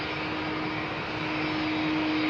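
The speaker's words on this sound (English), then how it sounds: "This looks like a Pratt & Whitney engine." Steady broadband roar of an airliner fitted with Pratt & Whitney engines at Heathrow runway 27R, a loud continuous engine rush with a sustained tonal whine running through it, no voices.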